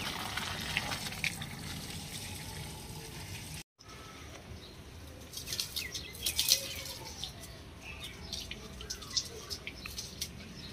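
Water poured over garden plants and their leaves in summer heat, a steady drip and trickle with occasional splashes, close by and moderately loud, with a short break partway through and no talking.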